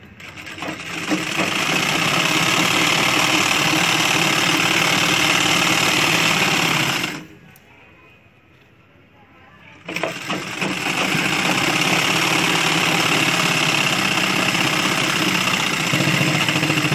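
A sewing machine runs at a steady, loud hum while stitching a dhoti shalwar, stops briefly for about three seconds, then resumes the same continuous run to the end.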